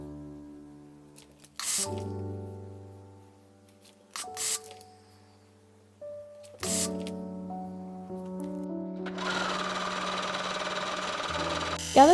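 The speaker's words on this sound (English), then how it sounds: "Gather stitch around the bottom of the sleeve." A sewing machine gather-stitching around the bottom of a dress sleeve, running steadily for a few seconds after some soft handling knocks, close and moderately loud.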